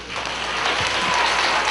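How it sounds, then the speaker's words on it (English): Schoolchildren clapping in a round of applause during a Miss America visit to a city elementary school, a brief dense burst of many small hands, loud and close. "We're going to get a round of applause."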